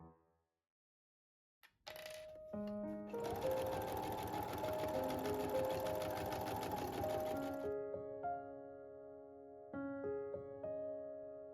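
A sewing machine stitching the lining darts of a mermaid skirt, starting after a brief silence with a quick burst then a steady rapid whir for several seconds before slowing and stopping, alone and close.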